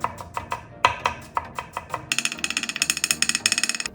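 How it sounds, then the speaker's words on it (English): A knife chops carrots finely on a cutting board, crisp close taps in an uneven rhythm at first, then a rapid, steady run of quick chops. "Chop the carrots thinly."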